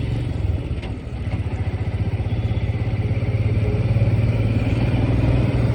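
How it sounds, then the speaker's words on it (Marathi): Royal Enfield Himalayan 411cc motorcycle riding through city streets, its single-cylinder engine thumping in a steady, loud rhythmic pulse that builds slightly as it pulls away, with wind rush over the top. "royal Enfield Himalayan 411cc"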